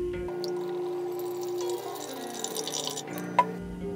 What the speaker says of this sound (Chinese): 我们需要在锅中倒入一些清水